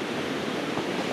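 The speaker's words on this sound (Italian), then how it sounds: "Mi piace molto guardare le onde che si infrangono sulla spiaggia." Sea waves break on a beach on a hazy November afternoon, making a steady, broad rushing wash of surf with no voices.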